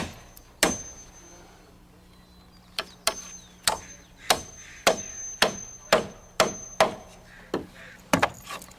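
Hammer driving nails into a wooden block and rafter during framing, about a dozen sharp, close strikes, first spaced out, then in a quicker steady rhythm.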